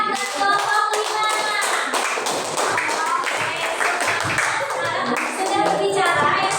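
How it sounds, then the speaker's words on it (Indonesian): A classroom of students applauds a presenting group, with steady, fairly loud clapping from many hands that lasts the whole stretch. Children's voices chatter underneath the applause. "beri tepuk tangan dulu untuk kelompok 4 dan kelompok 5"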